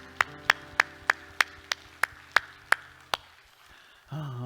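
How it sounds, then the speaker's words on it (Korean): A church congregation claps in unison during a Korean worship service, about ten sharp, evenly spaced claps in a steady rhythm, followed by a brief rise of room noise and voices at the end. "우리 하나님께 영광의 박수합니다"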